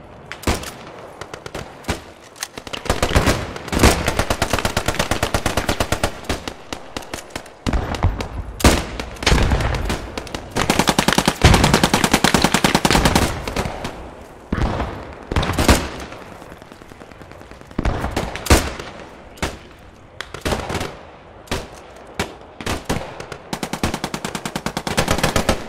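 Long, loud bursts of machine gun fire in the World War II shooter Post Scriptum rattle on and off, broken by short gaps, with heavy single booms mixed in.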